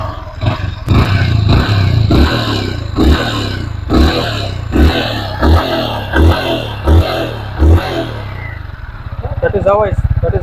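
Yamaha XSR 155 motorcycle engine accelerating in repeated surges, each rev rising then dropping, with a steady clattering single-cylinder idle between bursts, loud and close; a voice speaks briefly near the end.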